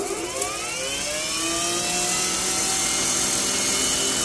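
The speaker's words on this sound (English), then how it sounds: "Here's the turbo nozzle locked into place. I got it on low already, so let's start it" An EGO 56V cordless pressure washer fitted with a turbo nozzle on its low setting starts up and settles into a loud, steady roar of motor and spraying water, with rising whirring tones, close and uninterrupted.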